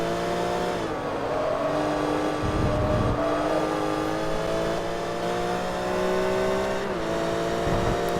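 Engine of a GT2 BMW race car in Forza Motorsport 3 revving and climbing through the gears, with short drops at shifts and faint tire scrub, loud and close throughout, no voices.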